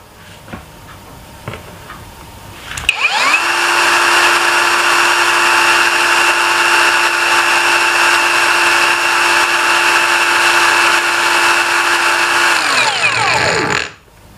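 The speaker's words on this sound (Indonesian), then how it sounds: "Kita tes tingkat kebisingannya di gerinda ini." A HUJIA cordless angle grinder spins up abruptly, holds a loud, steady high-pitched whine for about eleven seconds, then winds down, preceded by a few faint clicks.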